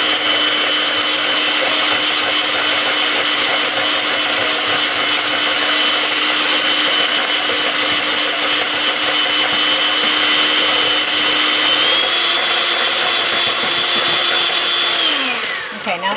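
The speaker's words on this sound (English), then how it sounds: "Now I'm going to use my little hand mixer here and just mix that up really nicely." A small electric hand mixer whips homemade mayonnaise in a bowl, giving a loud continuous motor whine with a rattling beater buzz. The pitch holds steady for a long stretch, rises slightly near the end and then cuts off abruptly.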